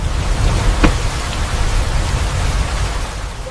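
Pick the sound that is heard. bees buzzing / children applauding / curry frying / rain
rain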